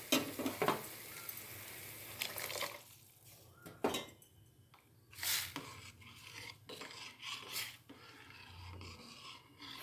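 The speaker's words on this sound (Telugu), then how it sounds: "ఇలా కలుపుతూనే ఉండాలండి," Jowar semolina being stirred into boiling water in a pot, with intermittent scraping and clinking of a spoon against the vessel, soft bubbling beneath, and short bursts of activity separated by quieter moments.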